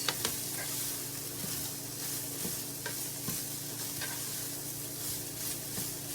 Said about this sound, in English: you just want to cook this mixture down until all the pork is cooked